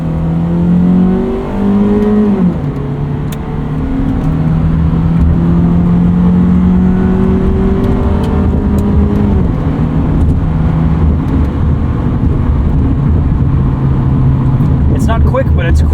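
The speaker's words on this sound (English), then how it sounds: "There's that 2-liter singing." The 2-liter engine of a 1988 Honda Prelude Si with automatic transmission revs and climbs through the gears from inside the cabin, a loud, steady whine with pitch shifts between shifts.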